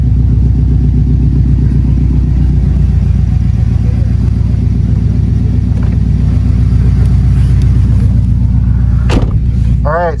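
A car on a dyno runs with a loud, steady low engine drone throughout, ending in a sharp pop and a few rising revs near the end; voices are audible.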